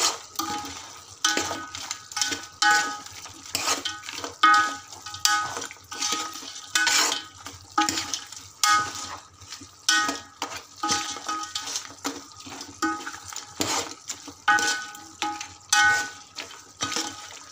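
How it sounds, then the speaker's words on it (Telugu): Chili-coated pieces are stirred in a pan, giving a steady run of scraping, clinking utensil strokes against the metal with a faint sizzle beneath, close and fairly loud, with no voices. "ముక్కలకు కారం పట్టేంత వరకు కలుపుకొని అరగంట మూత పెట్టుకోవాలి"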